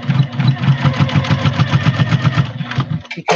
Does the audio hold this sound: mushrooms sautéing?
no